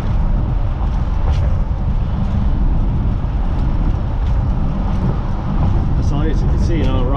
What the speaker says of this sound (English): So you can see it accelerates through the gears.